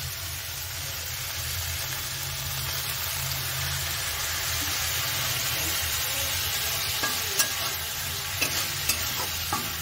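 Spice masala with salt and a splash of water being stir-fried in a pan: a steady, loud close sizzle running throughout, with a few light spatula scrapes and clinks toward the end, no voices.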